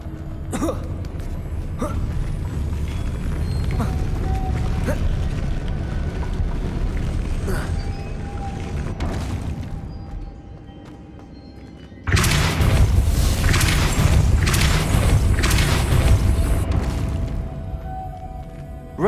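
A Depulso spell in Hogwarts Legacy shoves a puzzle mechanism, giving a rumbling, grinding mechanical drone that swells into a louder burst of crashing, booming movement partway through.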